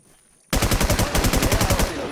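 After a brief quiet moment, a sudden burst of rapid automatic gunfire rattles steadily, loud and close, about fifteen shots in quick succession, in a video game.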